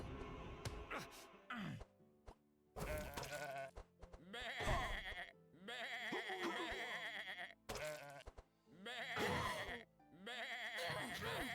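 Sheep bleating in the video game Across the Obelisk, a series of loud, close bleats in bursts separated by short pauses, with no talk.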